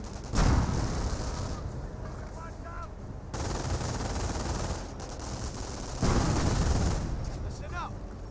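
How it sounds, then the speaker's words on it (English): MG42 machine gun fire in the video game Company of Heroes rattles in sustained loud bursts with heavy battle noise, broken by short pauses between volleys. "MG42 does suppress the Flamer engineer"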